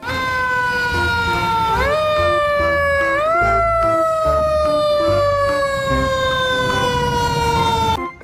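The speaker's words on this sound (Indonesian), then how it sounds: "Wow, mobil truk pemadam kebakaran." A toy fire truck's electronic siren wails close and loud, its stepped tone sweeping up in jumps before sliding slowly downward, steady and continuous throughout.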